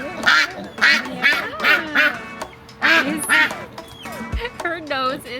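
A duck quacks in bursts of short, nasal calls near the listener, with a person talking softly between and over the calls.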